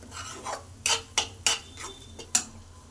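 A spoon scrapes through thick egg gravy masala in a pan, five or six distinct rasping strokes at an uneven rhythm, close and clear, with no talking.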